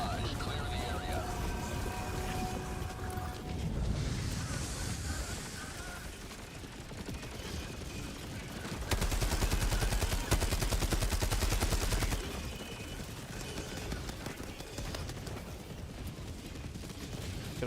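An orbital barrage strike in Helldivers 2, a sustained loud rumble of repeated heavy impacts and gunfire that swells in the middle and keeps rolling, with voices talking over the battle.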